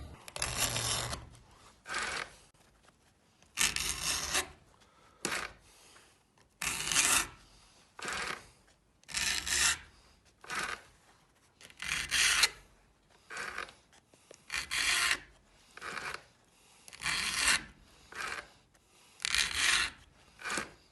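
A file rasping down the depth gauge rakers on a Dewalt chainsaw chain, about a dozen short, even scraping strokes in a steady rhythm with brief pauses between, close and clear with no talk.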